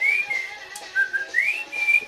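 A person whistles a short signal, using a sliding, rising and falling melodic whistle of a few tones, clear and close, with no talking.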